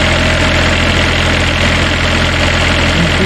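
Cummins Onan generator engine idling at low load after an engine swap, a loud, close, steady drone with an even throbbing pulse and constant vibration, with no talk.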